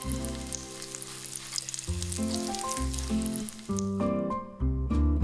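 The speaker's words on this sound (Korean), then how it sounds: "얇게 저민 소고기에 달걀물을 입혀서 전유화까지 붙여주고요" Thin slices of beef coated in beaten egg pan-fry as jeon for bibimbap garnish, giving a steady low sizzle that sits beneath loud, prominent music throughout.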